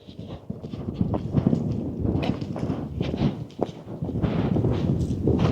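Young horse cantering during a jumping session, close rhythmic hoofbeats on the ground with wind noise and movement, steady and fairly loud, no talk.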